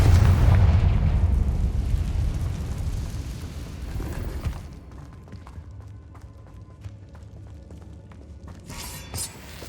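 A Confringo fire spell explodes in the video game Hogwarts Legacy: a loud, rumbling blast roars for several seconds, then fades into scattered crackles and debris sounds.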